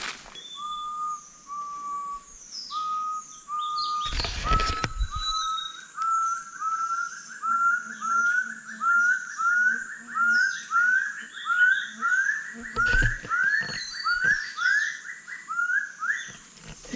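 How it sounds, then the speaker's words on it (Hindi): Repeated bright whistled bird notes ring out in a steady rhythm over quiet outdoor ambience on a mountain trek in Mizoram, with a couple of brief loud thumps partway through. "देखिए पक्षी की आवाज़ आ रही है,"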